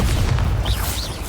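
An explosive Bombarda spell bursts in Hogwarts Legacy, a loud low boom with dense rumbling energy that holds through the short moment, with a few brighter magical whooshes rising over it.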